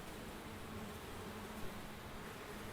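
A faint, steady insect buzz hums in the background, continuous and soft, like bees busy nearby outdoors.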